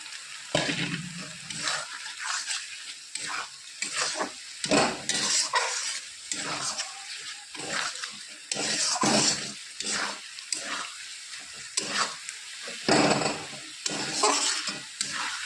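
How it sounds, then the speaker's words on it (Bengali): Ground spices, turmeric, cumin and chili, are stir-fried in a pan for a silver carp curry, giving a close sizzle broken by repeated scraping strokes of a spatula in an uneven rhythm. "মশলাটা ভালো করে একসাথে কষিয়ে নেবো যতক্ষণ কাঁচা গন্ধটা না বেরোয়"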